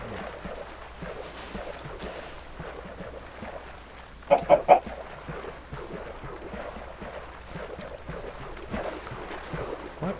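A Minecraft chicken gives a quick cluster of three or four sharp clucks midway, standing out over a steady bed of soft game ambience and footsteps.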